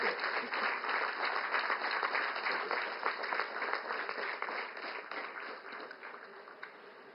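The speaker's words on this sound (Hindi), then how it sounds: "माननीय प्रधानमंत्री श्री नरेंद्र मोदी जी, तालियों की करतल ध्वनि के साथ हम आपका स्वागत करते हैं." Steady, dense applause from a large crowd welcoming Prime Minister Narendra Modi at the Nalanda University campus inauguration in Bihar, sustained without a break and fairly loud throughout.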